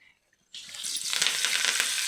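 Near silence, then a sudden bright hiss as garlic drops into hot tempering oil with mustard seeds and cumin, the sizzle rising and holding steady, close and fairly loud with no talk.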